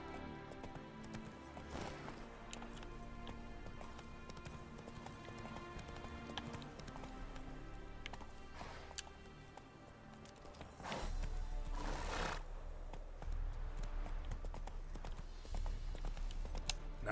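Hooves of a horse in the Witcher 3 video game clip-clop in a steady running rhythm over game music, with a louder burst of motion near the end.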